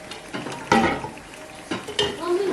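Spoon stirring carrot stew in a pot, several quick scraping and clinking strokes in uneven bursts, close and moderately loud.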